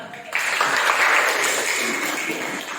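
Group applause from students in a classroom, a dense steady patter of many hands that starts abruptly and holds at an even level without stopping.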